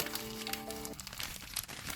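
Dense crinkling and crumpling of thin magazine paper, continuous and close, with a brief sustained tone in the first half.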